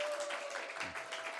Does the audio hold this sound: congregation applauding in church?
yes